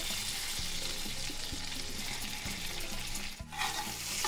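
Bay leaves and garam masala crackle in hot ghee as a tempering for prawn malai curry, a steady close sizzle with a few soft knocks and a brief stir.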